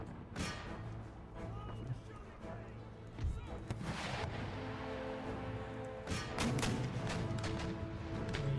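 Howitzer artillery fires during a battle in the video game Empire: Total War, with a series of sharp booming blasts at irregular intervals over rumbling battle noise, and a clump of several shots near the end.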